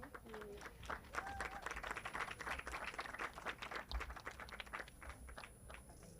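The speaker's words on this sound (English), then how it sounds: "Big round of applause." An audience at an event gives a panel a round of applause, a dense patter of clapping that holds steady and fades slightly near the end, with faint voices beneath.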